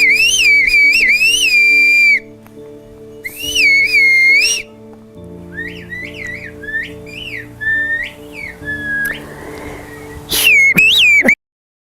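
Whistled language carried over distance, loud clear pitched whistles in short rising and falling phrases, some long held notes, with gaps between exchanges and a faint low hum beneath.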